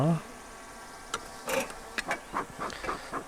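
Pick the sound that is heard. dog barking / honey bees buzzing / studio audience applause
honey bees buzzing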